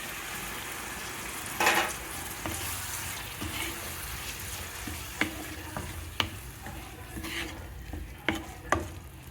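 Coconut and poppy seed paste frying in a pan for potato kurma makes a steady sizzle, with intermittent sharp clicks and scrapes from stirring.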